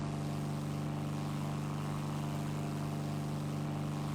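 Heavy fighter plane engine in the War Thunder video game, a steady, droning propeller hum with a strong low tone holding evenly throughout, no talk.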